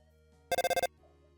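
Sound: telephone ringing in the video game Undertale

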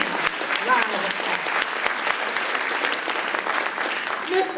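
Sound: audience round of applause at a seminar

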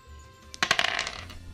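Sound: dice being thrown in a board game

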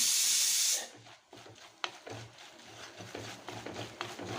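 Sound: chili powder sizzling while frying with garlic

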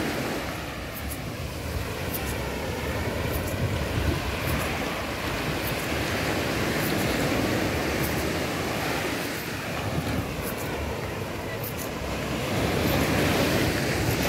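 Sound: waves at Aqua Beach, Barbados south coast

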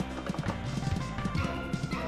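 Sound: horse hooves clip-clop in video game Sunset Riders

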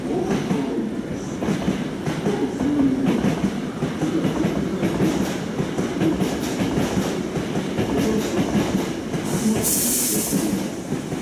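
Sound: train arriving at station platform

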